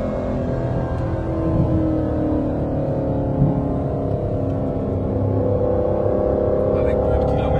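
An Aston Martin V12 Vantage engine held at about 5000 rpm gives a steady, deep, sustained drone, loud and close, with a slight swell partway through.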